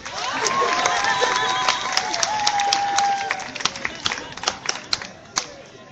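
Audience clapping at a youth educative talk, a burst of applause with some cheering that thins into scattered individual claps and fades out, with voices heard early on.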